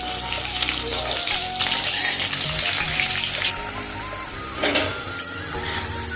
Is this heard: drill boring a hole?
no